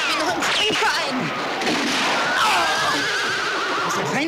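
A horse neighs loudly and close by in a Western setting, with shrill whinnying cries rising and falling across a few seconds over rough background noise.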